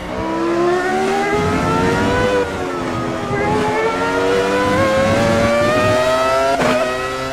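Michael Schumacher's 2001 Ferrari V10 screams through the gears in Automobilista 2, a loud, close onboard engine note rising and dipping steadily with brief upshift breaks and no talking.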